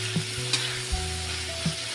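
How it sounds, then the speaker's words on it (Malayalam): Grated beetroot stir-frying in coconut oil for a Kerala mezhukkupuratti, a steady sizzle broken by a few soft scrapes and knocks of the stirring spoon against the pan. "വെളിച്ചെണ്ണയും കൂടെ ഒഴിച്ചു കൊടുത്ത് നന്നായിട്ട് ഇളക്കി കൊടുക്കണം."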